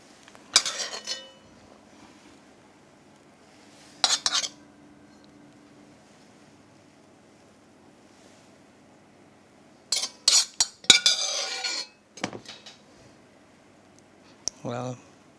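Artisanal cheese pasta being plated with metal utensils, with short bursts of clinking cutlery against dishes separated by quiet gaps, close and crisp.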